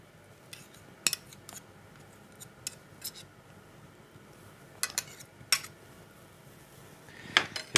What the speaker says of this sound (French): je vais prendre une petite louche